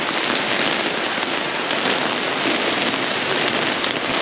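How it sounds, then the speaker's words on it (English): Very small hail falling steadily during a cold, windy storm at a van campsite, a dense, even patter close by that stays continuous and unchanging throughout, with no voices. "That's probably gonna be really hard to see, but it started hailing. Really tiny stuff."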